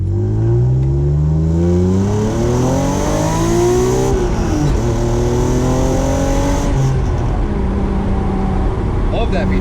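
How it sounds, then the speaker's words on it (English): A modified Acura NSX with a VTEC engine revs hard and loud up through the gears, pitch climbing and dropping with each shift, the engine close and continuous while people talk over it. "Love that VTEC sound."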